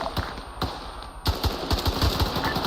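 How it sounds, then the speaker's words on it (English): Airsoft guns fire during a milsim training exercise, with rapid bursts and overlapping shots cracking close by in an uneven rhythm and no talking. "Okay, please don't shoot. Stop shooting."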